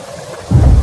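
A rain-and-thunder storm sound effect: steady rainfall hiss, then a deep low rumble of thunder rolling in halfway through the short burst, with no voices.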